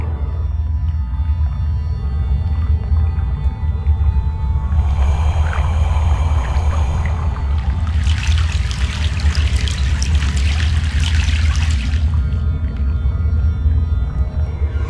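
A steady low rumble from a boat crossing a river in the video game Broken Sword 3 runs throughout, with trickling, splashing water rising in the middle stretch and then fading back.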